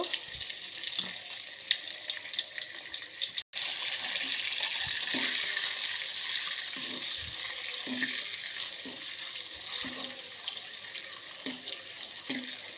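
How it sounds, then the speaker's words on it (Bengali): Eggs with potatoes, turmeric and chili powder fry in a pan, a steady hissing sizzle broken by regular soft stirring knocks, with a brief dropout early on. "ডিমগুলো লাল হওয়ার আগ পর্যন্ত আমি এইভাবে নাড়তে থাকবো।"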